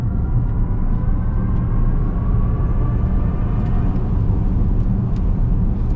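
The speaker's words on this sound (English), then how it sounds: "Makes a cool sound. It kind of sounds like you're accelerating in a spaceship." A 2024 Chevy Blazer EV's electric motor accelerating: a steady, loud low rumble of road and drive noise with a faint rising whine layered on top, continuous for the whole stretch with no talk.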